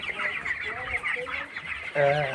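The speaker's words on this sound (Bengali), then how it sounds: "পানি খাচ্ছে, খাবার খাচ্ছে মুরগিরা" Broiler chickens, 21 days old and kept through winter, cluck and chirp in quick overlapping calls while eating and drinking, with a stronger close call near the end and a voice faintly present.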